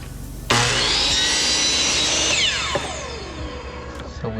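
A power miter chop saw spins up sharply and bites through wood molding on a 45-degree cut, a loud steady whine that holds for about two seconds before the blade winds down with falling pitch.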